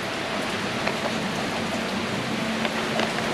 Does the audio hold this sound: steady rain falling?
yes